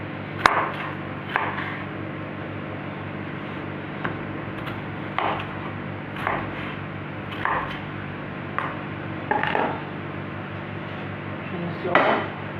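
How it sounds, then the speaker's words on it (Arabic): Knife chopping boiled potatoes on a board for a filo pastry tray bake, giving a series of irregular sharp cuts and knocks, moderately loud over a steady kitchen background hum, with a voice speaking at times. "هنبدا في تقطيع البطاطس بالشكل ده كده"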